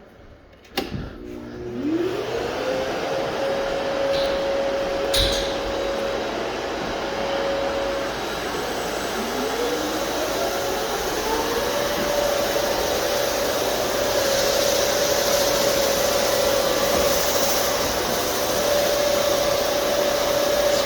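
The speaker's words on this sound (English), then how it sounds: "turn the vacuum on" A floor vacuum attached to a hardwood floor screening machine runs continuously for a long stretch, a loud steady whine with a tonal hum that slides up in pitch as it spins up, close and unbroken.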